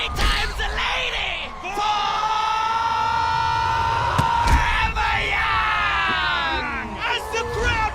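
Crowd rushing a sports court yells and bellows in a loud, continuous roar, with overlapping high shouts and whoops held throughout.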